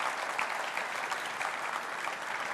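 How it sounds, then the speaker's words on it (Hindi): A studio audience at a Hindi television debate show on Trump's tariffs applauds in a dense, steady burst of many hands clapping, loud and continuous throughout with no talk over it. "तालियां बजाइए भाई"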